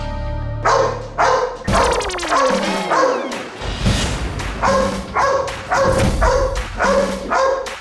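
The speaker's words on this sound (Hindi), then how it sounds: "ये नॉट 9 तो यहीं भौंक रहा है।" A dog barks repeatedly and loudly nearby, a rapid series of sharp woofs in bursts, with a brief musical sting early on.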